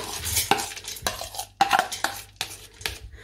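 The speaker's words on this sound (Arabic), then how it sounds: "هفضي كل المكونات على بعضها في الحله" Washed lentils, onion and vegetables tumble into a cooking pot in several quick clattering dumps, with spoon knocks against the metal rim and a faint sizzle between them.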